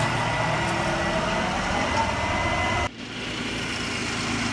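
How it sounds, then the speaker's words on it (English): A tractor engine running steadily while leveling an overgrown backyard, a continuous droning rumble that holds an even level, with a brief dip near the three-second mark before it settles back. "We got Tim back there on the tractor, just going to town."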